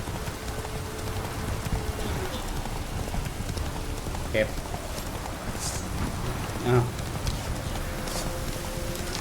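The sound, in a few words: horse hooves in video game The Witcher 3: Wild Hunt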